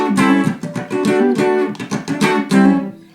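Electric guitar, an Ibanez Roadstar II RS135 on its bridge pickup through an amp, plays a brief bright, twangy phrase of picked notes and chords, ending with a fading ring.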